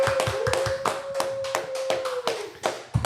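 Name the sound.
applause for a guest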